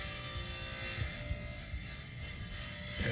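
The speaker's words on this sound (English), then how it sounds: "what I like to do is brush some of this on the threads" A brush rubs thread compound onto the bolt threads of a Ferguson TO35 tractor during repairs, giving a faint, steady scraping and rubbing with small mechanical clicks, and no talk.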